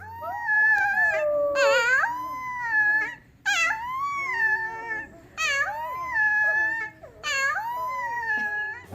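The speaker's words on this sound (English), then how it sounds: "A howling baby wolf is the sweetest thing you'll hear today." A young wolf pup howls in several long, wavering, high-pitched cries with short pauses between them, close and loud, with no talking.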